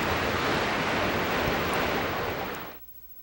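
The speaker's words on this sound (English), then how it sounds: "Because the water is raging" Raging water in the video game Clock Tower 3, a loud, dense roaring rush that fills the scene alone, then cuts off abruptly near the end.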